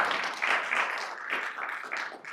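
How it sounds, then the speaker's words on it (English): An audience applauds panelists at a climate tech event, with dense, sustained clapping from a sizable crowd that stays fairly loud throughout the short burst. "Let's give our wonderful panelists a round of applause"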